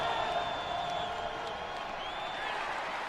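Steady crowd roar fills Bronco Stadium during a Tennessee-Martin at Boise State college football game, a continuous broad wash of fans with faint whistles and whoops rising briefly above it, no clear break throughout.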